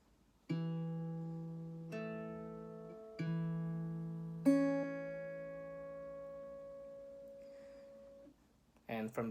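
Fingerpicked acoustic guitar pattern from a song, four plucked chord onsets with ringing harmonics, the last note sustaining for several seconds before a brief sound at the end.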